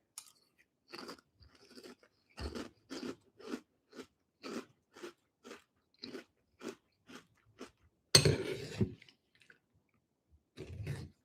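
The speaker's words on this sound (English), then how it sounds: "This is going to turn into some like ASMR, me crunching away." Crunchy food being chewed up close in a quiet room, a steady series of crisp bites and crunches at regular intervals, one louder burst partway through, with no talking.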